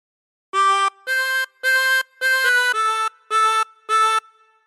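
A chromatic harmonica plays a phrase of the Star Spangled Banner as seven sustained reedy notes, separated by brief breaths, close and clear with no voices.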